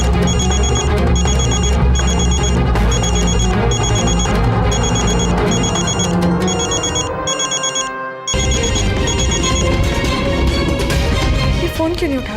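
A telephone ringing on and on without being answered at night, a repeating electronic ringtone pattern laid over a steady music bed, with a short pause in the ringing near the middle.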